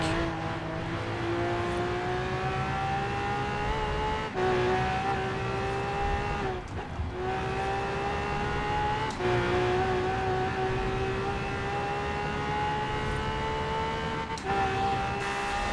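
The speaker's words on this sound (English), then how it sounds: "I love just hearing like an engine that just screams at the top of the RPMs between shifts." A Lamborghini Aventador in Forza Horizon 4 screaming at high revs, rising through the gears with brief dips at each of several gear shifts, loud and continuous throughout.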